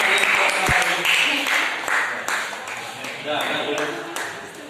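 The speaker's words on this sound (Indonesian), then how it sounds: "Tepuk tangan untuk kelompok A." Group A is applauded by a classroom audience at a school project session on reusing old bottles, the claps uneven and moderately loud, with scattered voices mixing in throughout.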